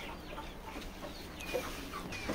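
Laying hens sit brooding on clutches of eggs and give faint, scattered clucks over a quiet, hissy background.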